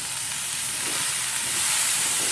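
A masala omelette with onions, coriander and chili fries in a hot pan, a dense, even, loud sizzling hiss that holds steady throughout with no talking.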